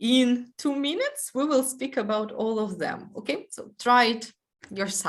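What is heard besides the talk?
No everyday noise stands out behind the speech.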